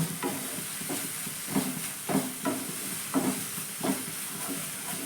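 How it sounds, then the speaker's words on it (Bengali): Spice paste with turmeric and salt frying in oil in a pan for a stuffed ash gourd leaf fritter filling, a soft steady sizzle broken by about eight regular scraping stirs, close and fairly quiet. "মশলাটা আমার ভাজা হয়ে গেছে"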